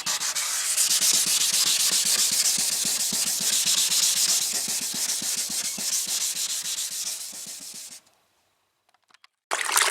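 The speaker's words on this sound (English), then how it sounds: "You want to be careful when you sand it around the paint surface" Close, rapid back-and-forth sanding scrapes on a plastic car headlight lens continue steadily for several seconds, then stop briefly before resuming.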